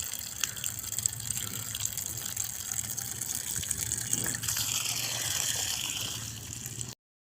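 Water leaks from a Nissan NV350 van's car radiator, gushing and trickling steadily nearby, a continuous hissing splash that runs for several seconds and then cuts off.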